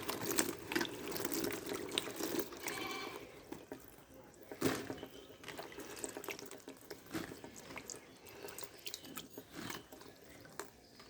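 Dried jujubes for pickling washed by hand in a bowl of water, with intermittent splashes, sloshing and soft drips, quiet and close, with brief pauses between handfuls.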